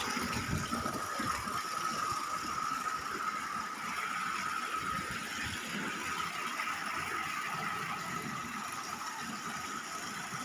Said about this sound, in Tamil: பைப்பில் இருந்து ஊற்றுற மாதிரி இருக்குது.